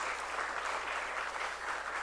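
A church congregation applauding in welcome, a dense steady roar of many hands clapping filling the room without a break.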